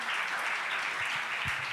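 A church congregation applauds together during a Spanish-language service, a moderately loud, even patter of many hands with a few low thumps mixed in.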